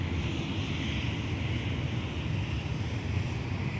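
An American airliner takes off on runway 17 at MSP airport, a steady, broad roar of engine and rushing air holding constant throughout with no voices over it.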